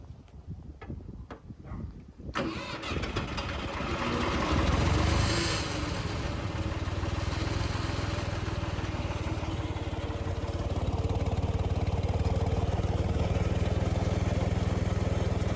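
A Ford 2600 tractor engine is cranked a few times, catches and settles into a steady, fairly loud diesel idle with a rhythmic chug, all without speech.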